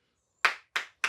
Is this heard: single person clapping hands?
yes